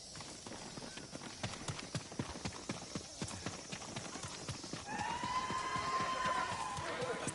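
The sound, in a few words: horse hooves galloping in video game Ghost of Tsushima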